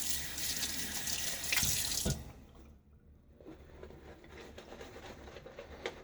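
Running tap water rinses a hand during a wet shave with a Gillette President razor, a steady loud splashing stream for about two seconds, then quieter running water and soft patter continuing.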